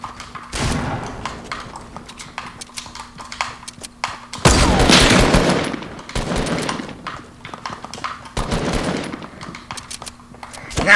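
Fortnite gunfire: loud bursts of rapid shots in several clusters, with quieter rattling between them, close and prominent throughout.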